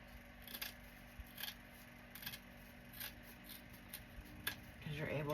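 Several crisp scissor snips cutting wired ribbon at irregular intervals, fairly quiet against a soft background hiss, with a faint rustle near the end.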